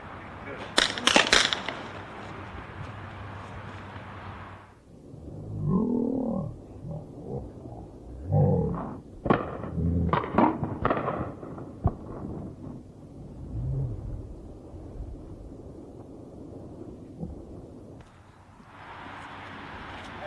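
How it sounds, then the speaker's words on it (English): Handgun fire during a tactical moving-and-shooting training drill: a quick cluster of sharp, close pops in the middle, with people talking before and after the shots. "I'm going to draw my weapon. I'm going to shoot back."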